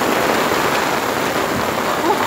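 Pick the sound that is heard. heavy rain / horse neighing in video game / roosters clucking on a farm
heavy rain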